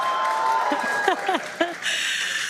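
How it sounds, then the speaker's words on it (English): Crowd cheering and applauding at a SpaceX Starship launch as the Super Heavy booster flies on Flight Test 4, a steady broad roar with a commentator's voice speaking over it and a few brief louder swells. "you can hear the crowd is very excited about it"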